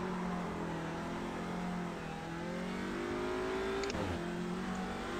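Touring car at a race start in iRacing, its engine revving hard and climbing in pitch, briefly dropping at a gear change before pulling on under other cars droning nearby.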